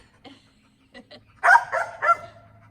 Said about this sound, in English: you got a loud bark, man